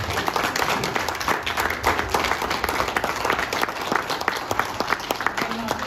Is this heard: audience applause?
yes